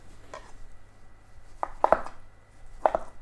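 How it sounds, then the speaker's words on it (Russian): Three or four sharp knife strokes slicing chicken into thin slices on a cutting board, spaced irregularly, close and fairly crisp with no talking. "Далее нарезаю на тонкие слайсы."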